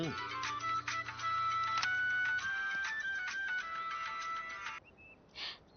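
A phone ringing over speakerphone during a call, a repeated electronic ringtone melody with rhythmic tonal pulses, then cutting off into brief quiet and a short noisy burst.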